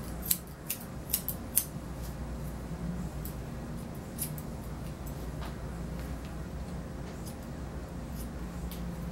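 Grooming scissors trim a poodle's coat in a few quick, crisp snips near the start over a quiet, steady room hum.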